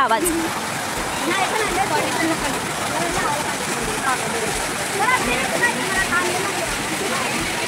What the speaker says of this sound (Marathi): तुम्ही आपला मिनी व्हर्जन ऑफ धबधबा बघून घ्या कसा दिसतोय आर्टिफिशियल धबधबा आहे बट आवाज बघून घ्या आवाज